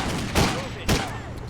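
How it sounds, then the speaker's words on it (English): Gunfire in the video game Driv3r: two sharp, loud shots about half a second apart ring out over a dense, constant background of game noise and music. "Just one shot, dead."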